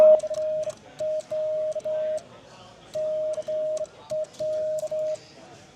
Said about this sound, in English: So if I wanted to call the CQ on the bug,